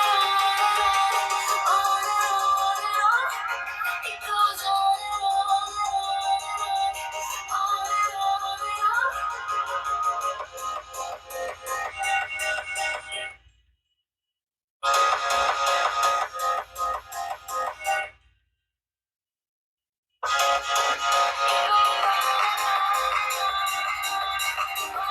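Music plays loudly through the small built-in speakers of a cheap TCL 5G smartphone, a thin, flat-sounding melodic track that twice cuts out abruptly to silence before resuming.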